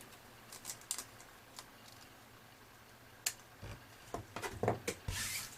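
Paper on a handmade dress card is trimmed with scattered, irregular snips and light crisp clicks, sparse at first and clustering more densely toward the end, close and fairly quiet.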